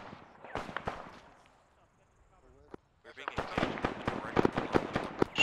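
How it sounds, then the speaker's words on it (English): Gunfire in ARMA 3 in a Taliban-held town: sharp cracks and bursts, a few early shots, then a brief lull and a dense rapid volley, at moderate distance with speech mixed in. "Shots northwest."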